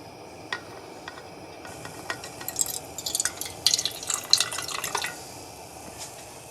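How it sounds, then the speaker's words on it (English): A little water trickling and dripping into an empty aluminum soda can, a quiet patter of small splashes and metallic drips building in the middle and then fading, close and alone. "I'm gonna put just a little bit of water in it"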